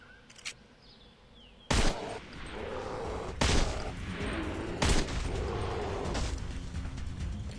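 Three loud, sharp hunting rifle shots spaced about a second and a half apart in the Deer Hunter 2018 video game, each ringing out over a steady outdoor ambience of insects and wind.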